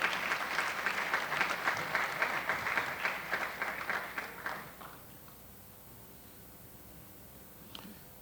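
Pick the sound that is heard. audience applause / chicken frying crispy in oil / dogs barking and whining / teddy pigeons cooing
audience applause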